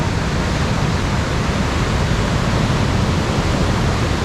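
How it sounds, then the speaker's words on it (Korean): Big ocean waves roll in at Imrang beach in Gijang, Busan: a loud, steady, broadband roar of surf that runs unbroken through the clip with no voices. "와 파도 크다"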